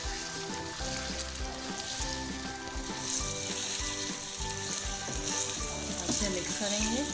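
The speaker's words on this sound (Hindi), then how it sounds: "इसके साथ ही हम इसमें शामिल कर देंगे बोंग का गोश्त" Beef shank meat with bones sizzles loudly in a hot pot of oil as nihari begins cooking, a dense continuous crackle with thumps of pieces being added and stirred, close and alone without speech.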